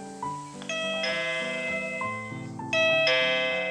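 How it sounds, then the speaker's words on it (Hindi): An electronic doorbell plays a multi-note melodic chime, ringing out clearly and then starting again, loud and close with no voices. "उसने डोरबेल प्रेस किया,"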